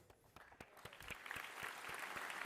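Applause for a bronze medalist at the International Physics Olympiad 2025 closing ceremony in France opens with a few scattered, distinct claps and quickly swells into full, sustained clapping from a large hall audience.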